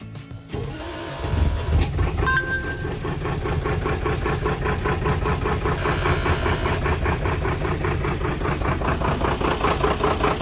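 A 1979 Mercedes-Benz Atego diesel truck, unused for a year, cranks briefly, fires up, and settles into a loud, steady rhythmic idle close by, with no voices.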